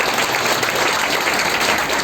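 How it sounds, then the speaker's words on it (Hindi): A church congregation at a Sunday service applauds loudly, a thick, continuous wash of many hands clapping close by, with no voices standing out. "जोरदार ताली बजाइए।"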